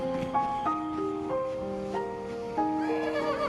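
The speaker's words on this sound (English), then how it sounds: "Oh my gosh, horses!" Horse whinnies in a Zelda video game trailer shown at E3 2016, several rising and falling neighs over a musical score, moderately loud throughout.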